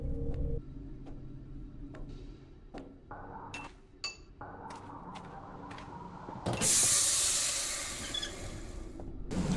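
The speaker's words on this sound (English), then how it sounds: "Release the steam. With manual override." In the video game Lethe, metallic clinks and ratcheting mechanism clicks are followed by a loud, sustained steam hiss that bursts in and carries on to the end.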